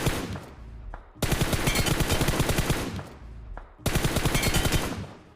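Rapid automatic gunfire in the battle-royale game BGMI, two long loud bursts of rattling shots with a short pause between them, close and alone.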